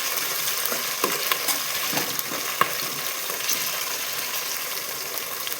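Green chillies frying in hot oil alongside dried red chillies, giving a dense, continuous close-up sizzle with a few scattered pops and clicks of stirring.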